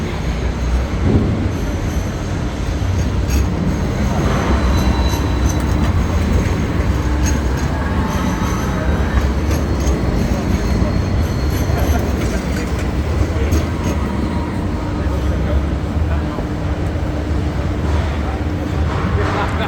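A train runs through the Sydney CBD, a steady rolling rumble with wheel and rail noise that lasts the whole stretch, loud and continuous with no pauses.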